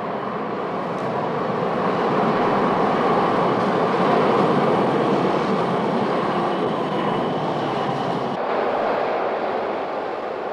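Prague metro train pulling into a station platform, a steady loud rumbling roar with wheel and rail hiss that swells and holds, then eases slightly near the end, with no voices.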